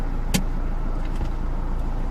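A car pulling away during a driving lesson, its engine hum and road noise steady and close inside the cabin, with a brief sharp click early on.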